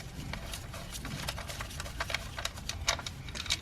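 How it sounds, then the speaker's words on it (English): A ratchet undoes an 8mm bolt holding the ignition coil pack on a 2014-2018 Mazda 3, giving a steady run of quick, close metallic ticks and clicks. "And then you're going to undo this 8mm bolt."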